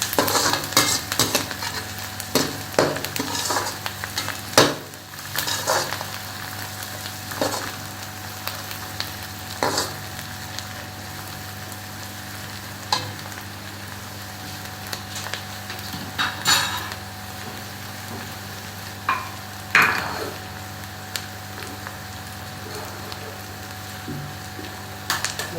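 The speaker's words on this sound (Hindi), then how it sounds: "इनको भी घी के अंदर फ्राई करना।" Onions and green chillies frying in ghee, a soft continuous sizzle broken by recurring scrapes and knocks of a spoon stirring against the pot, close and moderately quiet, with no talk.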